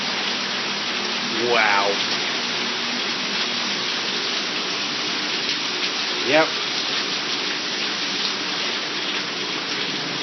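Hail pounds down during a storm in Baltimore, a steady dense patter and roar of ice striking surfaces and the microphones. Short exclamations from people break in twice over the constant drumming.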